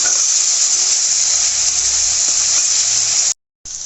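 Pizza ingredients cook in a dry pan with a loud, steady broadband sizzle that runs unbroken for over three seconds, cuts out abruptly for a moment near the end, then resumes.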